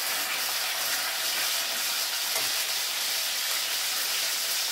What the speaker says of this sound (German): and the stuffed chops go into the pan